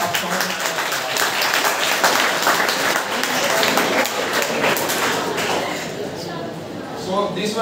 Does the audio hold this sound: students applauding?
yes